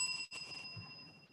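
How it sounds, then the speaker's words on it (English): A fundraising pledge bell rings with steady, high, sustained tones that hold through most of the moment, with a brief gap near the start and no talking. "There's the bell. That means we got another pledge."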